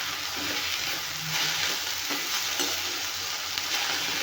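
Fenugreek leaves fry in oil for a chutney, giving a steady, bright sizzle that runs unbroken throughout, with soft stirring and light scraping close by.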